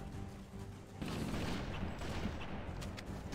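Distant, muffled gunfire from Halo CE mod Operation Purgepoint rattles in dense bursts, a steady low crackle of shots that thickens partway through, faint and without talk.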